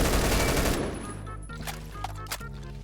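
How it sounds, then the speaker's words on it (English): An automatic LMG in the shooter game Phantom Forces rattles off a dense, loud burst that cuts out abruptly, leaving a sustained electronic tone with a few faint clicks and ticks after. "I can just shoot through walls like that and get the kill"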